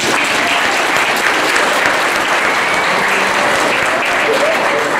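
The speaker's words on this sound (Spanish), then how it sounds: "¡Fuerte el aplauso!" Wedding guests burst into loud, continuous applause for the newlyweds just after the groom kisses the bride, a thick roar of clapping with faint voices mixed in throughout.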